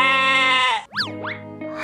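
A cartoon sheep gives a short, bright, wavering bleat, loud and close, followed by a sliding cartoon effect and then a second brief call.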